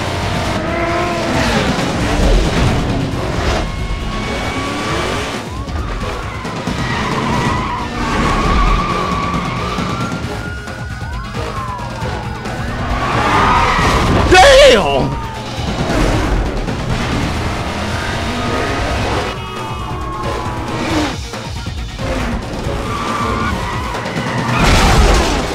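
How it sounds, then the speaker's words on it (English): Cars drift and skid in Need for Speed Most Wanted during a police chase, with engines roaring, tires squealing through long slides and a siren wailing underneath, loud and continuous. "Hit that drift slide"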